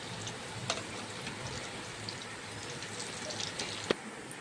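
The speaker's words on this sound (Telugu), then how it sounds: "మిగతా సగం కూడా దీంట్లో వేసేసి మళ్ళీ అవి కూడా వేయించుకోవాలి" Capsicum fries in a pan with a steady, dense sizzle throughout, close and even, with occasional small clicks and a brief knock near the end.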